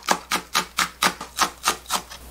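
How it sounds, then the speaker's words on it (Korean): A knife mincing Cheongyang chili peppers on a cutting board while oyster rice soup is prepared: a steady, close series of about eight crisp chops, evenly spaced, with no talking. "청양고추는요 잘게 다져주겠습니다"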